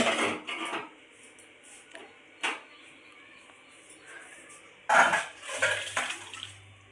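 A pot of parshe fish curry is lifted off the stove with a few sharp metallic clanks and scrapes, separated by quiet stretches and ending in a cluster of knocks.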